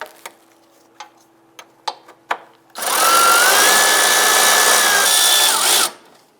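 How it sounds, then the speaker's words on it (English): Several sharp ratchet clicks tick at the start, then a power tool whirs loudly for about three seconds, loosening and removing a bolt on a 2002-2008 Dodge Ram 1500, close by. "We're going to go ahead and loosen and remove this bolt right here."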